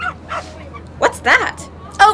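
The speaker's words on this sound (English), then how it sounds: "Now they're both barking." A nervous dog yips and barks in short bursts aboard a passenger plane, fairly close, with people talking and cabin chatter around it.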